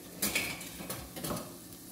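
Ground meat in a frying pan, heard as a few soft metallic clinks and scrapes from stirring against the pan, fairly quiet and without talk.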